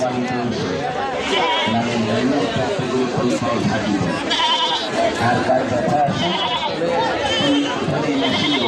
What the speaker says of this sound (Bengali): ছাগল আছে ছাগল যথেষ্ট পরিমাণ আছে